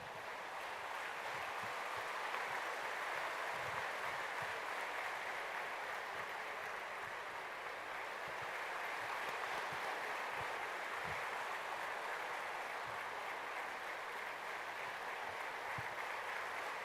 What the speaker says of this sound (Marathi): आपण सर्वांनी उभं राहून जोरदार टाळ्या मारून आज सर्वांचं यांचं स्वागत करावं